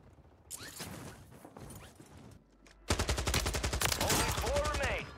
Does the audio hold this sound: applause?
no